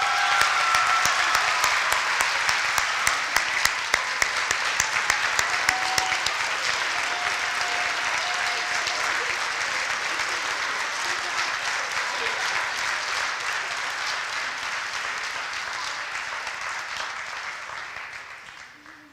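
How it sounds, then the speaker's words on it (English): Sustained loud applause fills a board meeting hall for a cheerleading team, dense clapping holding steady for the whole stretch before thinning slightly at the end. "A big round of applause."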